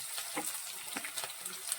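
Ginger, garlic, onion and green chilli sauté in oil after mustard seeds, a soft close sizzle with small crackles and stirring taps, fairly quiet.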